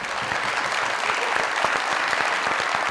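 A studio audience on a comedy talk show claps in dense, sustained applause, loud and even for the whole stretch, with no voices standing out above it.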